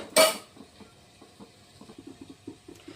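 A spoon clanks sharply against a metal pot, then stirs neem leaf water with soft scraping clinks in a loose rhythm, close and alone.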